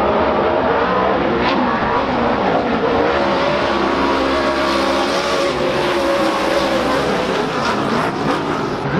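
Off-road race truck engines roar loudly and continuously, with revving and tire noise, during a race that includes Kyle LeDuc's #99 truck; crowd or commentary may sit faintly underneath.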